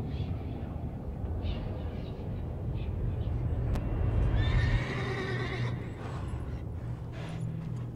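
A horse whinnies in The Witcher 3, a brief rising neigh over a low, steady outdoor game ambience with faint hooves, the call fairly close and loud against the background.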